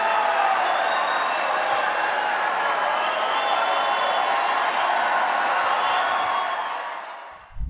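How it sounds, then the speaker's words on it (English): Large political rally crowd giving Trump a long, sustained round of applause and a standing ovation, a steady wash of clapping and cheering that holds for several seconds before fading. "That is a long, long, long round of applause and standing ovation."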